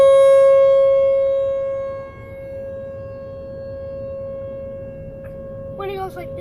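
Tornado civil defense siren test in Omaha, a loud steady wailing tone that fades down then holds, with voices starting to talk over it near the end.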